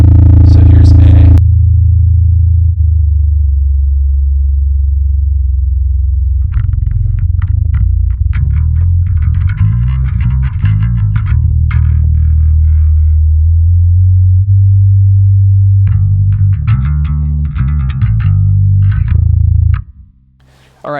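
Electric bass in A tuning, pitch-shifted down by the transpose feature of a Neural DSP Parallax X, gives deep, booming low notes and growling distorted phrases, loud and close, separated by brief gaps.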